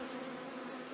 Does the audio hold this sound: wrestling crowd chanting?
no